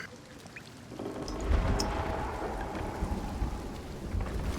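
Video game rain and thunder: a steady wash of rainfall with a low rumbling swell of thunder, fairly close, with scattered sharper patters and no voices.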